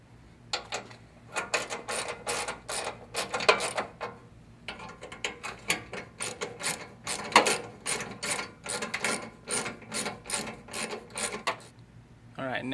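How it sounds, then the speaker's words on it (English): A ratchet reinstalls the air box bolts on a 2005–2009 Mustang GT during a cold air intake install, giving quick clicking bursts in repeated runs with short pauses between them. Each run is close and crisp over a quiet background. "And then we're going to reinstall the bolts."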